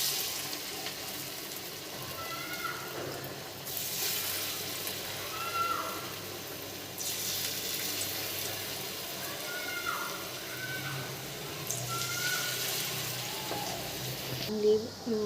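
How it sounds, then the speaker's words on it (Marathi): Moong bhajiya frying in hot oil, a steady soft sizzle with bursts of bubbling hiss as batter drops in, close and moderately quiet. "तेल पण इथे आपलं गरम झालेलं आहे। आपण आता भजी सोडूया।"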